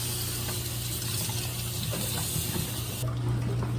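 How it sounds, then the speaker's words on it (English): Running water, as from a tap, steadily wets fabric items before dyeing, a continuous close splashing wash heard alone with no speech. "you got to get your items wet, not soaking wet, not like dripping wet"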